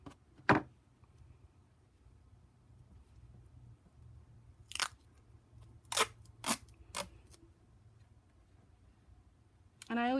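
Scissors snipping tape around a cross stitch frame, a few short crisp cuts clustered close together, near and quiet, with a faint rustle at the start and end.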